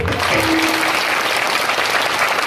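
A crowd of women in an audience at a village kirtan clap together, a dense, loud, continuous burst of applause that fills the whole moment.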